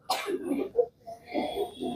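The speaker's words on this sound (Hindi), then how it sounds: "पहले खांस लो सब अच्छे से, जोर लगाओ, जितना भी खांसी निकाल लो सब" A few short, muffled coughs and throat clearings from people settling in before meditation, quiet and close, spread across a brief moment.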